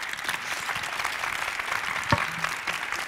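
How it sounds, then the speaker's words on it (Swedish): A short burst of steady clapping from a panel discussion audience, filling the whole moment with dense, even applause at moderate volume. "en applåd"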